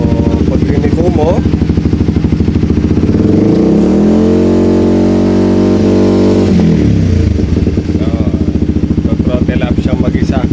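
A Honda CBR150 motorcycle engine with a sticking throttle revs on its own, swelling into a loud sustained rise and then falling back to a steady idle, with close, buzzy tone throughout.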